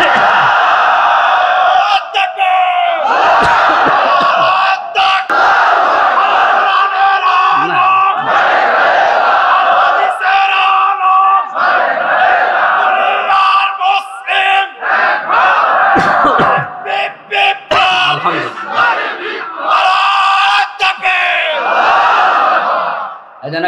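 A large crowd at an Islamic sermon gathering (waz) roars Allahu Akbar in unison in answer to a takbir call, with loud, sustained chanting that swells and repeats for over twenty seconds.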